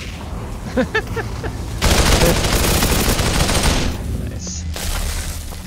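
Sustained rapid gunfire bursts in a video game, loud and continuous for a couple of seconds, followed by more scattered shooting, with a brief spoken remark and in-game voice sounds before the volley.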